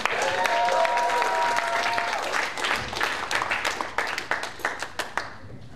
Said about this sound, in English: I'd like to get a round of applause for Thor and his students for feeding us today.